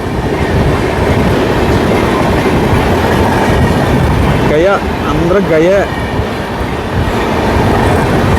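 Passenger express train pulling into Ongole railway station, a loud continuous rumble of wheels and carriages with rhythmic clatter and brief wheel squeals midway, while people talk nearby throughout.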